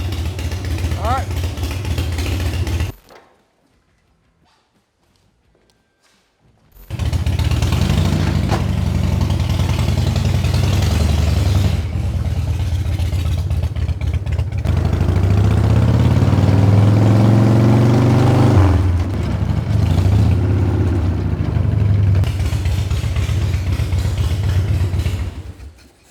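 A rebuilt chopper motorcycle engine, fresh from a full carb rebuild and new ignition, runs with a steady low throbbing idle, cuts out briefly, then restarts and rumbles on, swelling louder midway.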